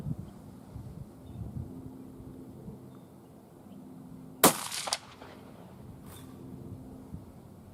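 A single sharp crack from a .223 bolt-action rifle fired off the shoulder with sandbags and a bipod at target practice, followed by a brief softer echo, set against quiet outdoor background with light wind.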